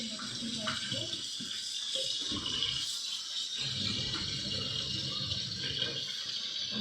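Food being cooked is rinsed in water, with splashing and running water nearby while a voice is heard now and then.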